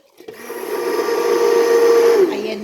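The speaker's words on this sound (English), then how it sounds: "and then I use my immersion blender." Immersion blender whirring steadily in a cup of high-fat bulletproof coffee, a close motor hum that rises, holds for about two seconds, then dips as it winds down.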